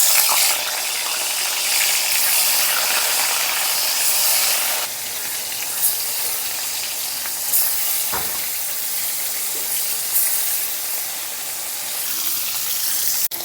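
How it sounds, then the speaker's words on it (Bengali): Pieces of shol fish frying in hot oil, a loud steady sizzle and crackle that drops slightly midway, with a few soft clicks of a utensil against the pan. "এখন শোল মাছের পিসগুলো দিয়ে তেলের মধ্যে ভেজে নেব।"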